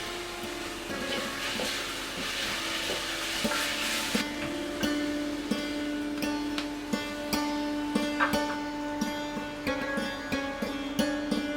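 Crushed ginger, garlic and green chilies fry in a pressure cooker with a soft, steady sizzle, alongside light scraping and clinks of a stirring spoon at close range.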